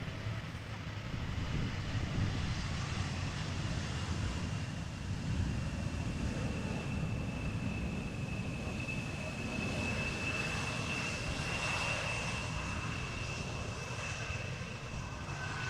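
A passenger jet arriving from Berlin at Amsterdam Schiphol Airport on a windy day, its engine roar a steady, broad rumble that holds throughout, with wind noise mixed in and no speech.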